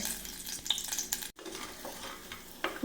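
A lump of asafoetida frying in hot coconut oil inside a pressure cooker gives a soft, steady sizzle with light scraping stirs, quiet and close, briefly cut off partway through.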